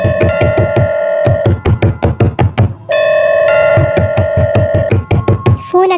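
A doorbell rings repeatedly while rapid, loud knocks pound on a door in steady bursts, pausing briefly before resuming.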